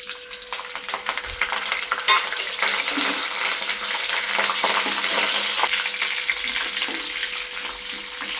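Curry leaves, garlic cloves and cumin seeds hit hot oil for a tempering, giving a steady, loud, close sizzle and crackle that runs unbroken throughout, with no talking.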